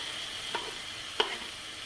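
Small chopped tomatoes are stirred into ginger-garlic paste frying in a pan for spicy crab masala: a faint, steady sizzle with two brief spoon scrapes against the pan, and no talking.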